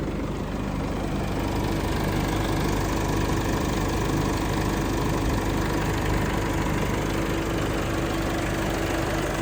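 A 2014 Isuzu D-Max 2.5 pickup truck engine idles steadily up close, a constant low rumble with an even, unbroken drone throughout.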